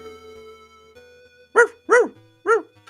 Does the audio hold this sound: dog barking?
yes